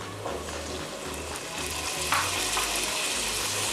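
Boiled peas and carrots fry in a pan over medium-low flame, giving a steady sizzle with occasional stirring scrapes, close and continuous without speech.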